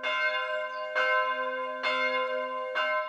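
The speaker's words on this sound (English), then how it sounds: "The bells of St. Jakob's Church in a town called Herxheim am Berg, sounding the midday call." Church bells of St. Jakob's Church in Herxheim am Berg, a town among vineyards in Germany's southern wine region, ring the midday call: four full, resonant strikes with long humming decay, alone and close.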